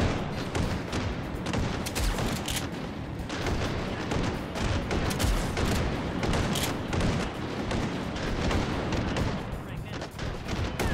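Guns fire through a wall in the VR game Hot Dogs, Horseshoes & Hand Grenades. Dense, loud shots and booming blasts pound on without a break, with a voice talking in the middle of it.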